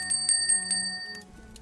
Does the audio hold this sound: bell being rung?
yes